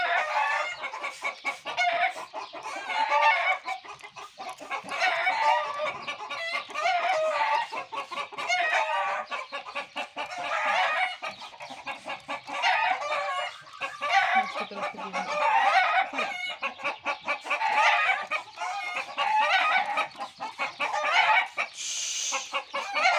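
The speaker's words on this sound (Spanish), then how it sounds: "ya se han vuelto locas las gallinas" A flock of hens clucks and squawks continuously up close, an agitated, overlapping chorus that keeps going without a break.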